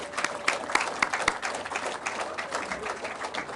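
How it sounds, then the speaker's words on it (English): Seated audience at a Reform UK rally in Chelmsford gives a round of applause for those standing, a steady wash of clapping with a few sharper individual claps standing out early, moderately distant. "Would all those seated please give a huge round of applause for everyone standing?"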